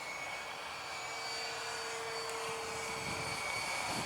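A Vampire electric ducted fan radio-controlled model jet flies at about half throttle, a steady whining rush with a thin sustained tone that swells slightly as it passes.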